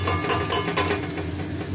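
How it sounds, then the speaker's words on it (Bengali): Spice paste being sautéed in oil in a pan, a steady soft sizzle with occasional scraping stir strokes, close and continuous, no voices. "কষানো হচ্ছে মশলা থেকেও তেল ছাড়তে শুরু করেছে তাও আর একটু কষাবো"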